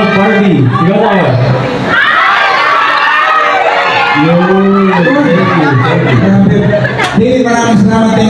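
Crowd shouting and cheering loudly at a movie premiere night, continuous excited voices and cheers with speech mixed in throughout.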